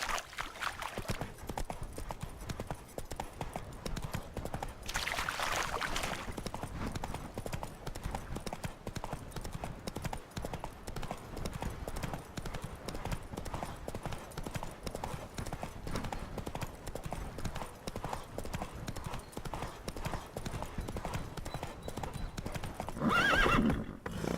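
Roach the horse gallops with steady clip-clop hoofbeats and lets out a whinny in a video game. A bright burst of rushing noise comes early, and the hoofbeats run continuously under game ambience.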